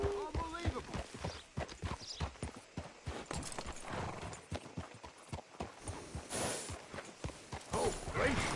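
Red Dead Redemption 2 video game: rhythmic clip-clop of horse hooves on a hard surface, walking at a steady pace, with speech at the start and a few brief whinnies.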